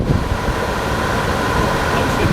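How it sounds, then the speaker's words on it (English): A TaoTronics H13 True HEPA air purifier runs its fan in a steady, loud broadband whoosh with a rumbling low end, close and continuous with no voices. "this is the sound of your fan"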